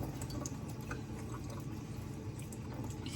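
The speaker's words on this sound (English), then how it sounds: "So we're just running this under the water and squeezing it until all the whey comes out." Tap water running steadily over homemade butter as it is rinsed and squeezed, a faint continuous splashing stream with small drips, close by and without talk.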